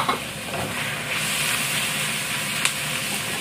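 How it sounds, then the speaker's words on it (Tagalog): Marinated pork lomo dropped into a hot pan, a loud, steady sizzle and hiss of frying meat close up, with a brief clink of a utensil near the end. "Tapos ilalagay na rin natin yung ating pork na nakamarinate."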